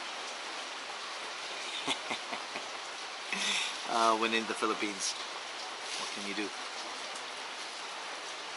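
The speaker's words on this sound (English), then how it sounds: "And it's raining" Rain falls in the Philippines as a steady, soft hiss that runs throughout, while someone talks over it in short bursts.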